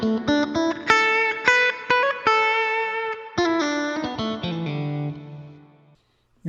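Electric guitar played through a ToneX pedal with its reverb, a series of plucked chords and single notes ringing out with distortion and a lingering reverb tail before fading to silence.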